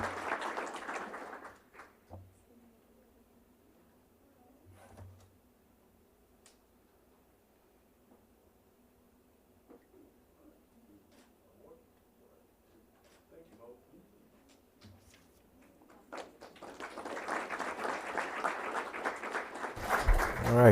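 School board meeting audience applauding an honoree, a burst of clapping at the very start, then quiet talk, then clapping that swells again loudly toward the end.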